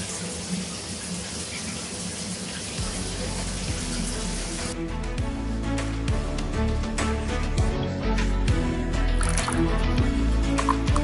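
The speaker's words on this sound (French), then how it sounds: "j'ai fini de prendre ma douche" A shower runs steadily up close, water hissing and spattering continuously, with small clatters and knocks of handling joining in over the second half.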